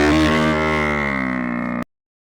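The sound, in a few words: buffalo lowing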